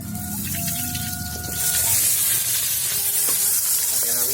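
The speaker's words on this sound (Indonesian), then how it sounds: "cengek berem, bawang berem, bawang bodas. Saudara-saudara, digoreng dulu." Chili peppers, shallots and garlic fry in hot oil, the sizzle swelling suddenly louder midway into a dense, steady crackle and hiss, with a few faint clinks of stirring.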